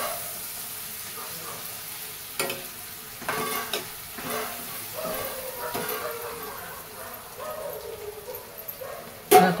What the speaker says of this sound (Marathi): हे बघा त्याला सगळं परतून घेऊया असं चांगलं व्यवस्थित एकजीव करून घेऊ